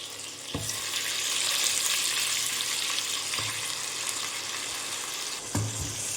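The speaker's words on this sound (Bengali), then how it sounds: "এবার চিকেনগুলোকে সুন্দরভাবে ফ্রাই করবো।" Marinated chicken pieces frying in a pan for Mughlai chicken korma, a loud continuous hissing sizzle with a few sharp clanks of utensils against the pan.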